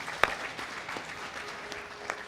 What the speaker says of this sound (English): Let's give those people a wonderful round of applause